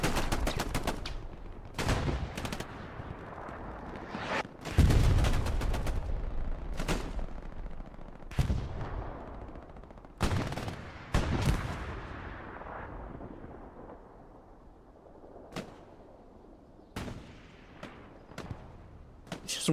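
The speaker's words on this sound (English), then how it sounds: "See if Voss or Brian can maybe get the refrag with the STGs" STG rifle fire in Hell Let Loose during a competitive World War II match, with loud close bursts and single shots echoing in rapid clusters, then thinning to scattered distant reports.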